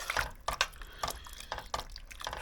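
A utensil scrapes and clinks around a pot in quick repeated strokes, with wet, sloshing sounds of a thick tomato and mushroom sauce being stirred up close.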